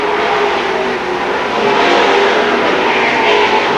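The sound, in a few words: race cars racing at Seekonk Speedway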